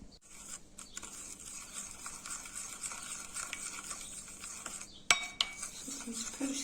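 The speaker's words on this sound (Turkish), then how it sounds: "Karıştıracağım sosunu." A spoon stirring sauce for a dried tomato salad, quiet rhythmic scraping and swishing in a bowl close up, ending with a few sharp clinks of metal against the dish.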